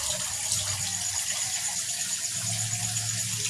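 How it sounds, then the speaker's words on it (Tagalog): Water gushing through the pump pipes of a DIY koi pond filtration system, a continuous close rushing flow with a faint low hum underneath and no talking. "Tapos dyan, naangat yung tubig, dadaloy po dyan sa mga filtration system natin."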